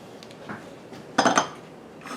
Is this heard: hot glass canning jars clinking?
yes